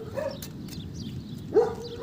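Dogs give short, moderately close barks, a couple of yips and a louder bark near the end, against a quiet indoor background.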